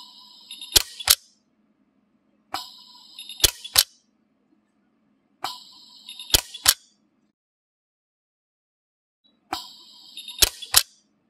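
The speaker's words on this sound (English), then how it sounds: "The Orion is being used in micro pulse arc mode to create a seam around the sprue." An Orion dental welder fires in micro pulse arc mode, sealing a seam around a sprue: four separate groups of sharp electronic beeps and snapping clicks, close and crisp, with near silence between them.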